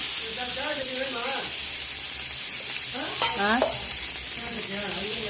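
Ginger and coriander being sautéed in a pan for barley soup: a steady loud sizzle with stirring scrapes, and a voice speaking briefly over the frying.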